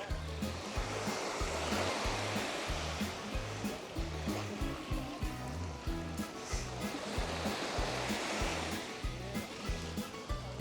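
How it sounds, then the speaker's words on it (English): Steady rushing water flows throughout at Vlycha Beach in Lindos, Rhodes, a continuous wash of sound with a soft rhythmic thumping underneath, no voices. "Love the sound of that water."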